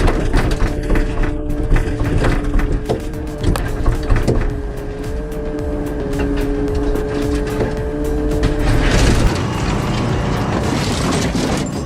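An Aljon 20 hydraulic crusher compresses steel, a loud, continuous grinding and creaking of metal with rapid ratcheting clicks and clanks throughout, no voices.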